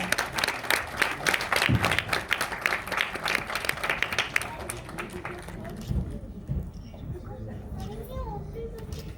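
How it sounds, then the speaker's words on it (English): An awards ceremony crowd applauds honourees, loud close clapping mixed with cheering and voices for the first half before fading into a quieter murmur of crowd and children's chatter. "Please give them a big round of applause."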